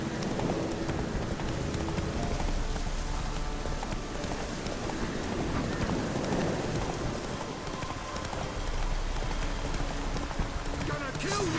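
Roach the horse gallops in The Witcher 3, with steady rhythmic hoofbeats running under rain-like patter and occasional voices, continuous and fairly close.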